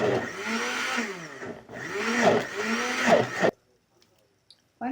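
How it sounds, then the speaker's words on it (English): A kitchen blender whirs as it blends kahurura leaves for mukimo. It runs in two loud pulses, the motor pitch dipping and rising under the load, then it stops into near silence before a faint noise at the end. "So we'll start with blending them just a bit."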